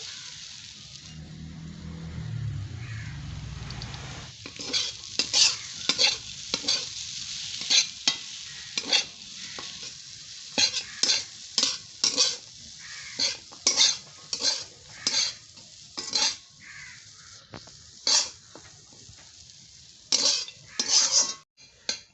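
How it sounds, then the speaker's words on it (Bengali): Semolina pulao frying in ghee, stirred with a metal spoon that scrapes the pan in rapid, repeated strokes over a steady low sizzle; a softer rumble opens the stretch before the stirring begins. "এখন আমি ঘি দিয়ে ভালো করে ভেজে নেবো"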